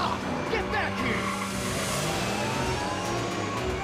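In Back to the Future: The Game, a car speeds away with revving engine and squealing tires. The engine roar and tire noise stay steady beneath continuous talk and other game sound.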